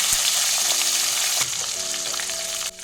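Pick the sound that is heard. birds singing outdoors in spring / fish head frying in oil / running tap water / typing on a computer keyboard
fish head frying in oil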